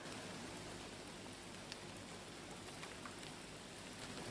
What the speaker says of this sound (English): The rain, it seems like it's just about to stop right now